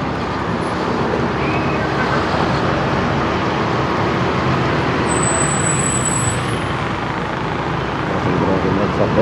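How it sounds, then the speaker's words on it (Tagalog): Steady road traffic roars loudly and continuously as cars, buses and trucks pass close by, a dense unbroken wash of engine and tire noise. "Traffic."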